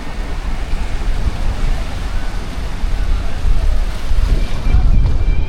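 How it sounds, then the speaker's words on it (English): Ocean surf rolling and crashing continuously on the Tamil Nadu coast of India, a broad roar with wind buffeting the microphone, steady and fairly loud throughout. "Look at the awesome waves crashing."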